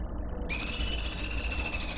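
A single high, sustained whistling bird call rings out loud and close, starting abruptly after a brief faint peep and holding steady without pause.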